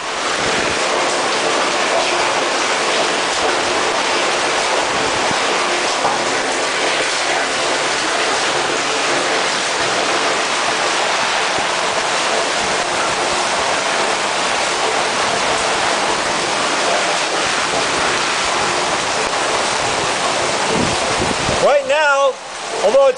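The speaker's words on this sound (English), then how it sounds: "notice the volume of water that is rapidly filling the tank" Water pours rapidly into a 1,000 gallon septic cistern, a loud, continuous roaring rush like a waterfall that fills the whole span, with a brief knocking disturbance near the end.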